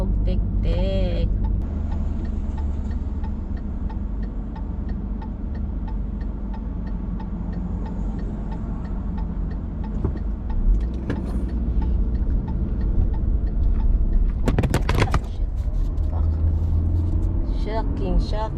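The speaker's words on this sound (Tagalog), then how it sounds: "Ay oh, daming sasakyan" Heavy road traffic with many cars passing, a continuous rumble of engines and tyres close by, with scattered clicks and a louder burst near the middle, while a person talks over it.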